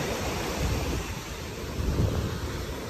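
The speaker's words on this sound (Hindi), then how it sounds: "हवा बहुत तेज़ है, दूर आप नीला पानी देख रहे हैं और वेव बहुत स्ट्रांग है" Strong wind and big waves at Panama beach: a continuous loud roar of surf and gusting wind buffeting the microphone, dense and steady with no break.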